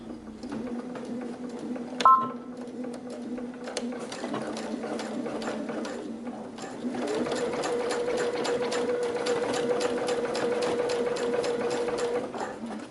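A sewing machine runs steadily, stitching a canvas and leather tote bag along a zipper edge: a brief start, a pause with a small click, then a longer continuous stretch of rapid, even needle strokes close by.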